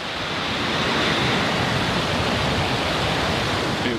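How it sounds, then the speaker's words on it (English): A Falcon 9 rocket ignites and lifts off as a loud, continuous broadband roar that holds steady throughout. "Ignition and liftoff."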